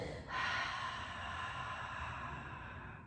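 A slow exhale during a pelvic floor exercise: one steady, soft breath out, close and alone, with a faint intake at the start.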